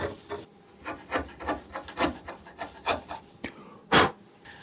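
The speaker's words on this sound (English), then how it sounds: "These are just going to need a little clean up with a chisel." A chisel paring and cleaning up the leg joints of a wooden sawhorse, with a run of short, close scraping strokes in an uneven rhythm and one firmer stroke near the end.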